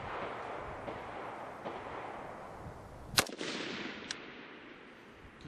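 Rifle shots on an outdoor range during a basic marksmanship course: one sharp, loud crack stands out against steady wind and background noise, with a fainter report following a moment later.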